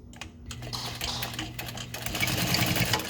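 A sewing machine stitches a vinyl strap in a close, steady rapid clatter of needle strokes, with the motor hum continuous beneath and the pace picking up slightly toward the end.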